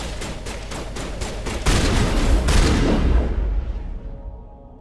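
Booming shotgun blasts go off in Mass Effect Legendary Edition: several rapid, loud, close shots, then a heavier burst that trails into a decaying rumble.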